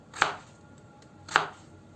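Two crisp knife chops through a potato on a cutting board, about a second apart, close and clear with no talking.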